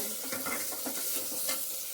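Onion and tomato tempering sizzles in a pan, a constant close hiss with soft scraping from stirring layered on top.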